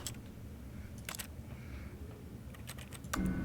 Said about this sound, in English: It sounds like typing.